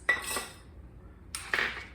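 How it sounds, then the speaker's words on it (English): Cinnamon sticks and whole cloves drop into a jar in two short bursts of clinking and rattling, close and fairly quiet, with a brief pause between them. "So I put in my 3 cinnamon sticks, and I'm going to be using 2 tablespoons of whole cloves."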